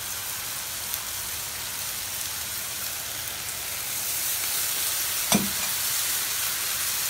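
Alexandrian-style liver sizzles steadily in a hot pan, a loud even fry that swells briefly as vinegar is added, with no talk over it.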